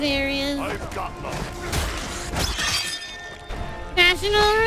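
Objects shattering and crashing in a hack-and-slash fantasy video game, The Lord of the Rings: War in the North, played as a dwarf. Several breaking impacts land at close range beneath game voices and music.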